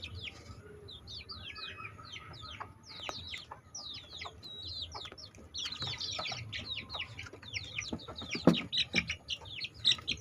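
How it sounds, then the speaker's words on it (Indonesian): Young chickens in a simple breeding coop give a busy stream of close chirps, peeps and soft clucks that continue throughout over low background noise. "ini kondisi dari ayam dalam proses breeding yang kita lakukan secara sederhana di kandang"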